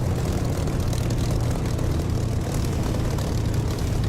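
An aircraft taxiing in the DCS flight simulator, a constant low engine and propeller drone that stays loud and even throughout, with no voices.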